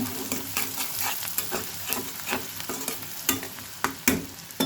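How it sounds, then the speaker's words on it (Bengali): Onion frying in a pan at home alongside fried eggplant and rohu fish, a steady close sizzle broken by repeated scraping stirs and clinks of a spatula, with no talking. "পেঁয়াজটার একটু ভাজা ভাজা করে নিচ্ছি"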